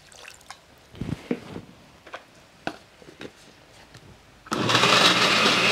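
Water is poured into a cooking pot holding seasoned beef with salt, cumin and black pepper for a ranchero stew. A few light taps come first, then a loud, steady rushing pour fills the last second.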